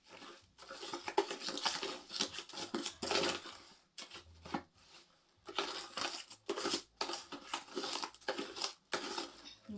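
Homemade liquid soap mixture being stirred by hand in a container: repeated scraping, rubbing strokes in uneven bursts with brief pauses between, close and moderately loud, with no talking.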